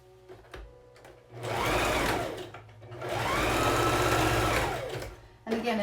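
A sewing machine stitches a fabric face mask with a filter pocket, running in two sustained bursts of rapid whirring with a short pause between, close and fairly loud, with quiet handling noise before and after.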